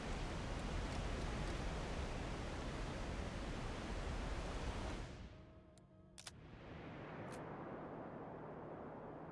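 Waterfall water in the Over the Hill video game demo makes a dense, steady rushing roar. The roar drops away briefly partway through, then returns at a softer, even level.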